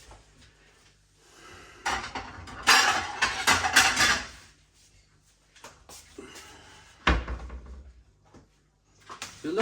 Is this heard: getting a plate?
yes